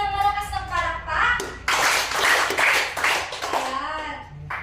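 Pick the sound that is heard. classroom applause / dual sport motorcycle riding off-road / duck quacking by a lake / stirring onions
classroom applause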